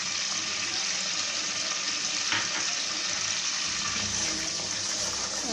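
Chopped onions sizzle in hot oil with cumin in a pan, a steady, even hiss of frying that holds at a moderate level throughout, close by and with no one talking.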